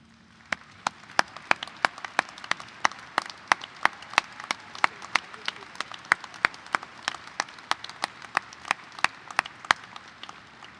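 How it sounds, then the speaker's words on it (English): A seated audience of parents, grandparents and caregivers applauds at a high school graduation ceremony, steady mid-distance clapping with sharp individual claps standing out, continuing evenly for about eleven seconds with no talk over it. "And now I ask that all parents, grandparents, and other caregivers for these seniors please stand for a round of applause"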